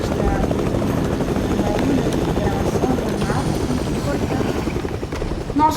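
A helicopter in a multiplayer shooter video game gives a steady, loud rotor chop throughout, with players' voices talking over it.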